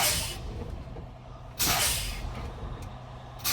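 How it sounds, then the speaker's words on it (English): A truck's air brake pedal is pumped, releasing sharp bursts of hissing air at the start, near the middle and at the end, with quieter hissing air in between. "going to pump the brake until my low pressure light comes on at or above 55 psi"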